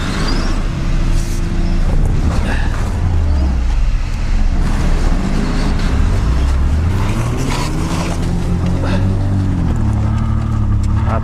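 An off-road vehicle, among Nivas, a Mitsubishi Pajero and a SsangYong, strains against packed, crusted snow. The engine revs rise and fall repeatedly, loud and close, with voices talking over it.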